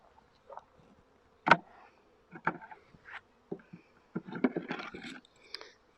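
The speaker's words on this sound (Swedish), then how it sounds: "Ser vi en del bin som åker omkring" Honey bees buzz around an open hive during a beekeeper's hive change, their short buzzing passes coming and going close by, mixed with light scraping and handling noises, with no one speaking.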